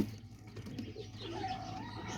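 Pigeons in a loft give soft, low cooing calls, faint and somewhat distant against a quiet background hum.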